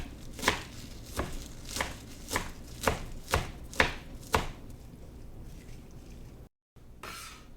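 A knife chops kale finely on a cutting board, about eight crisp, evenly spaced thuds close up, then a brief pause and one more soft cut.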